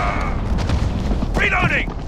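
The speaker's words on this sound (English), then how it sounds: "Allied cruise missile away." An allied cruise missile strike lands in Call of Duty Modern Warfare Domination multiplayer. A deep, rumbling boom rolls through the clip while a radio-style callout voice speaks over it.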